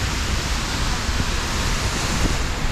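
Waterfall at Seljalandsfoss in Iceland, a steady broadband roar of falling water close by, constant and loud with no break, nobody talking.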